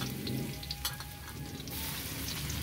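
Garlic sizzling steadily in hot cooking oil for a Filipino kare-kare, a continuous bright crackle with a few faint clinks of a utensil against the pan.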